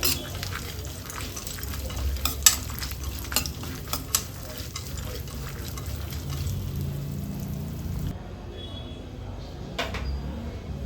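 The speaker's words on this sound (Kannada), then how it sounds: "ಹುಷಾರಾಗಿ ನಿಧಾನ ಉರಿಯಲ್ಲಿ ಫ್ರೈ ಮಾಡಿಕೊಳ್ಬೇಕು ಕೆಲವು ಬೀಜಗಳು ಸಿಡಿಯುವ ಚಾನ್ಸಸ್ ಇರುತ್ತೆ" Alvi seeds and chopped cashews fry slowly over a low flame, giving a steady soft sizzle broken by scraping stirs and a few sharp ticks, close and unbroken throughout.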